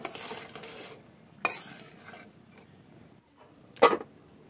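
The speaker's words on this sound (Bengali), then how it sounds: "দিয়ে তারপরে এখানে নাড়াচাড়া দিব" Fish head and moong dal with turmeric and salt stirred in a pot, giving a few soft scraping strokes and one or two sharper utensil knocks against the pot, close and sparse, with no voices.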